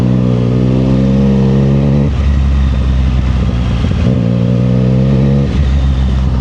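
A Triumph Street Triple Moto2 Edition motorcycle with a Zard exhaust revs loudly and close, its deep engine note climbing and dropping in repeated blips over a steady throbbing idle.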